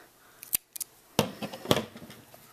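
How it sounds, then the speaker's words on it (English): Scissors snip through crochet yarn at close range, with a few sharp clicks and two distinct cuts in quick succession against a quiet background. "So I'm going to cut this off."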